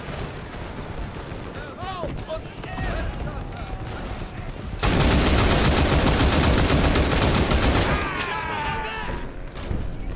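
Artillery barrage and gunfire in the WWI shooter game Over The Top: WWI. Rumbling battle noise erupts into a loud, sustained burst of rapid shots and explosions, easing slightly later as a voice talks faintly underneath.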